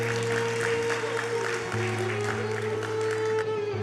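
Audience applause at an award event for special-needs children in Bangladesh, a steady wash of clapping lasting a few seconds over a sustained musical tone and low hum.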